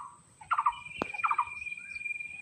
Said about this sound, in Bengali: চারপাশে কেবল পাখির ডাক